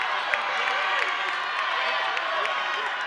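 A home basketball crowd at a women's Southeast Regional Championship game reacts to an airballed three-pointer, a steady, loud arena roar of voices and jeering that holds for a few seconds with no single announcer voice rising above it.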